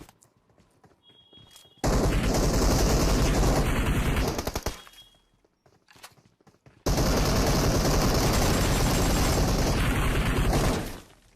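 Two long bursts of rapid automatic gunfire from a shooting video game, each lasting a few seconds and separated by a short quiet gap, loud and dense with booming impacts.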